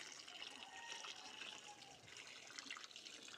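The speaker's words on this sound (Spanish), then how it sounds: "tomo este jarro de agua, lo voy echando poco a poco para que las raíces se vayan desprendiendo de la tierra" Water trickles slowly from a jug onto soil around tomato seedlings, a steady close splashing and gurgling pour that runs without a break throughout.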